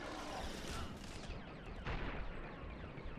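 A gunshot headshot in the shooter game Resistance: Fall of Man, a single sharp crack rising out of a dense, noisy battlefield background of distant fire and rumble.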